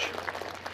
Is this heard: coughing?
no